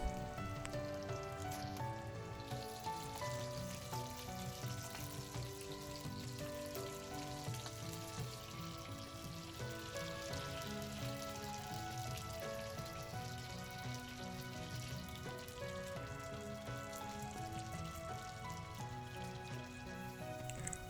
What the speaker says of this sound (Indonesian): Oke, sayap ayamnya udah selesai digoreng.